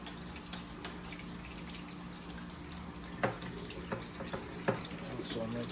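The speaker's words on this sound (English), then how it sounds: "there's a drain port down here. I'm going to open that up, let it drain" Water trickles steadily from the drain port of a kalk reactor during maintenance, a soft continuous flow with a few louder knocks and clicks nearby.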